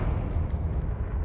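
A Confringo fire spell blast in the video game Hogwarts Legacy gives a steady, dense low roar that fills the short moment without a break.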